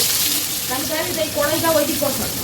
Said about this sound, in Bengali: বিরিয়ানি রান্না শুরু হয়ে গেল